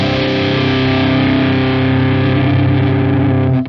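Heavily distorted electric guitar through a Boss distortion pedal, a sustained, buzzing chord ringing continuously for several seconds before cutting off abruptly.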